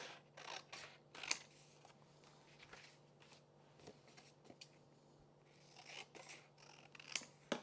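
Scissors snipping paper for Christmas scrapbooking, a run of quick crisp cuts and rustles in irregular clusters, close and fairly quiet, with paper handling between snips.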